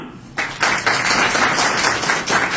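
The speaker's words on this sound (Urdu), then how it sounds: "ایک دفعہ پھر تالیاں" Classroom applause from a group of children, a burst of dense clapping that starts abruptly and holds steady for a couple of seconds, fairly close.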